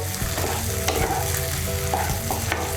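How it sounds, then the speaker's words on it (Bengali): Salt being stirred into beaten eggs and spices frying in a pan, a steady loud sizzle with scraping spoon strokes and occasional clinks throughout, no talking. "নুনটাকে মিশিয়ে নেব"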